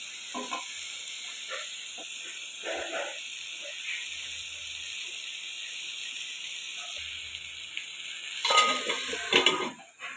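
Taro stolons (kochur loti) with tomato are stirred in a pan, giving soft scraping and sizzling in short bursts over a steady background hiss, with a busier clatter of stirring near the end.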